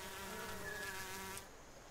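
Hornets, large wasps, buzz steadily and close by with a continuous droning hum, with no voices over it. The buzz fades slightly near the end.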